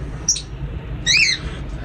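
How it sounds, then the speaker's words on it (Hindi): Kashmiri parrot giving two short, sharp squawks, a brief one followed by a longer, harsher call, fairly close against a quiet background with no talking. "ये तोती कश्मीरी, ये तोती बैठी मोटे रखते होंगे ना, तोते की निशानी है।"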